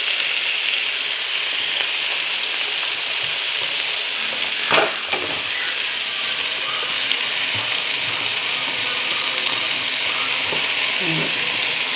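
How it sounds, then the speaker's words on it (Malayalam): Chicken being stirred and mixed in a hot pan, with a steady sizzling fry throughout and a brief louder scrape of the spoon midway, close and continuous without talk. "ചിക്കനെല്ലാം ഇട്ടതിന് ശേഷം നന്നായിട്ട് ഇങ്ങനെ ഇളക്കി യോജിപ്പിച്ചതിന് ശേഷം"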